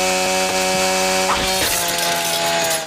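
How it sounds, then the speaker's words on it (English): A chainsaw runs steadily from start to finish, a loud, continuous engine drone with a few sharp revving surges. "And guess what? He still has his chainsaw!"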